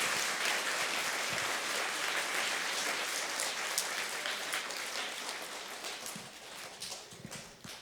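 Steady, dense applause from an audience at a school Blue Ribbon celebration, a continuous wash of many hands clapping that slowly fades out.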